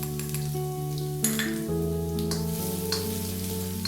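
Ginger and garlic frying in a pan, a continuous close sizzle with occasional clinks of a utensil against the pan, no talking.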